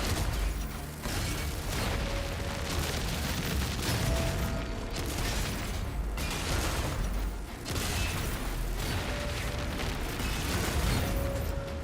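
Grenade launcher explosions in Doom: The Dark Ages, a dense continuous barrage of booms and bursts with mechanical clatter, loud and unbroken with no talk.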